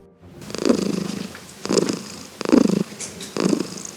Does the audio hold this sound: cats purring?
yes